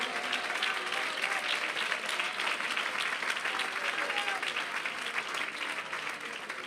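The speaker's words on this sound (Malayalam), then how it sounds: "കൈയടിക്കാൻ നിങ്ങൾ നന്നായി കരങ്ങളടിച്ചേ" A congregation at a Malayalam Christian sermon claps together in sustained, dense applause that runs evenly from start to finish, with a voice faintly present underneath.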